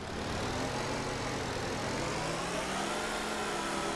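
A rough, poorly running car engine in the Car Dealer Simulator video game, needing a suspension pin and calipers, drones steadily and close for the whole stretch, with no voices over it.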